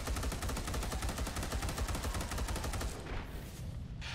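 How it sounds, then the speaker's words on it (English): Rapid automatic bolter fire from a Mark II bolter in the video game Space Hulk: Deathwing, a dense continuous stream of loud shots for about three seconds, then thinning out with a few trailing bursts. "I think the sound for this Mark II bolter could be a little bit more stronger"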